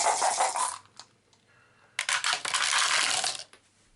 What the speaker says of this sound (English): Let's cast 8 dice, see if she can get some cash.